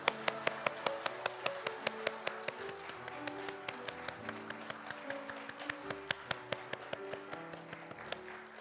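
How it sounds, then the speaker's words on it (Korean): A church congregation claps in praise to God during a Sunday service, a steady run of sharp, evenly spaced claps with a faint tonal background underneath. "하나님께 영광의 박수 올려드리겠습니다"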